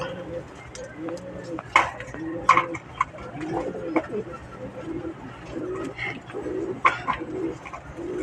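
Pigeons cooing close by, soft repeated coos and a few sharper calls scattered over a steady low background, with people talking quietly in places.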